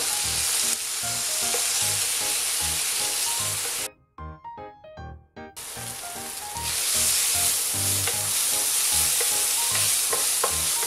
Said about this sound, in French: Quand l'oignon il commence à griller, j'y rajoute le poivron. Voilà, que je vais faire griller un petit peu aussi.